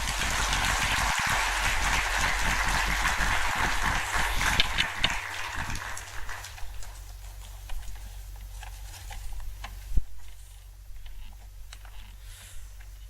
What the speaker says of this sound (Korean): 큰 박수로 맞이했으면 좋겠습니다